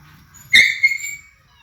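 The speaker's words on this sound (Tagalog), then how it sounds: "Ang ingay ng aso, no?" A dog lets out a single short, high yelp or yip, close by, followed by a brief fading whine against a faint low background.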